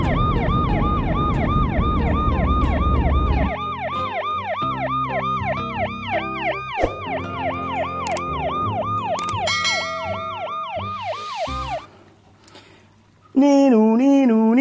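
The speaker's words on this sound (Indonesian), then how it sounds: "Lihat, ternyata mobil ambulan." A toy ambulance's wailing electronic siren cycles rapidly and steadily, loud and close, then breaks off briefly before a different warbling siren pattern starts.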